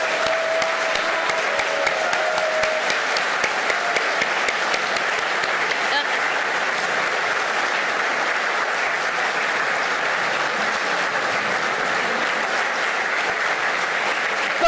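A political rally crowd in France claps warmly and steadily for the whole stretch, a dense, even wash of applause from a large audience with no pause.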